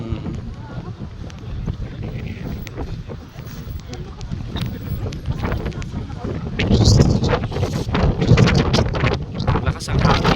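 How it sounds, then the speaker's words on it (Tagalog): Strong gusting wind at Mt Hotham snow resort buffeting the microphone with rough, low roaring rumble that builds louder in the second half, with blowing ice in the air. "Lakas ang hangin, grabe"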